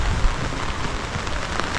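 Heavy rain pours down in a steady, dense hiss, loud and continuous with no pauses.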